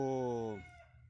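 A chicken on a small farm gives a single close, loud call that holds its pitch for a moment and then trails off into quiet.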